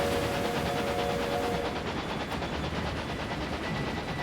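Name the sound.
trains departing in the video game Railway Empire 2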